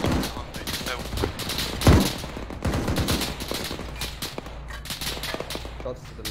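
Rapid bursts of automatic gunfire crack through a video game battle, with one heavy shot standing out near the start amid a dense, continuous clatter of shots, while voices talk faintly over it.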